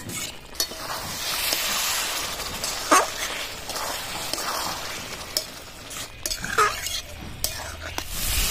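Fried potatoes stirred into a spice masala for a Bengali ritha fish curry, a steady close sizzle with scraping clicks from the spoon, some faint murmuring voices and a brief dog-like bark underneath.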